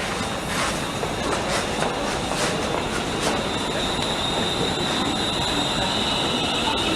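A Class 90 electric locomotive passes through a London station on the Liverpool Street line, a loud continuous rumble of wheels with rhythmic clacks over the rail joints and a thin high squeal along the track.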